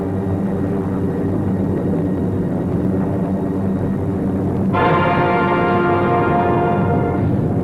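World War II bomber aircraft engines droning loudly and steadily as planes return to base, a sustained heavy propeller roar that thickens and brightens partway through as another engine sound joins in.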